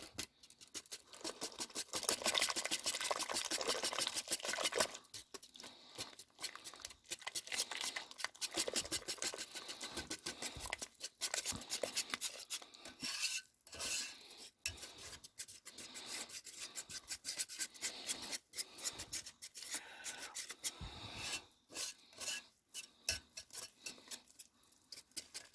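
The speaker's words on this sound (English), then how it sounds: "you mix this up right in the pan" Cake batter with eggs being mixed by hand right in the pan, a steady scraping and rubbing stir repeated in uneven strokes, close and fairly quiet.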